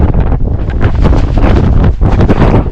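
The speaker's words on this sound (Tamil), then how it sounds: "திடீர்னு பயங்கரமான காற்று அடிக்க ஆரம்பிச்சிடும்." Strong wind on a mountain buffets the microphone with a loud, continuous roaring rush and gusty surges, with no other sounds standing out.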